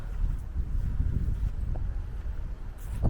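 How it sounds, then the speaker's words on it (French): Steady wind blows outdoors, buffeting the microphone with a continuous low rumble and no clear pauses. "Ah, il y a du vent là"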